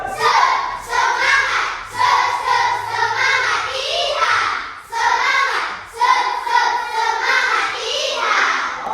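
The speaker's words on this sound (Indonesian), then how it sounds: "Tepuk semangat cowboy." A classroom of children performs the 'tepuk semangat cowboy' clapping routine, with rhythmic hand claps under loud group chanting that repeats in phrases.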